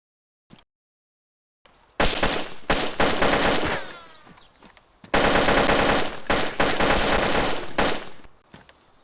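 Gunfire in the DayZ survival game on the Livonia map: two long, loud bursts of rapid automatic shots, each lasting a few seconds with a short lull between, after a faint isolated crack near the start.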